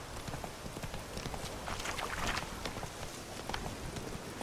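A horse's hooves clip-clop at a steady run in The Witcher 3, a busy patter of hoofbeats at moderate level, with no talking.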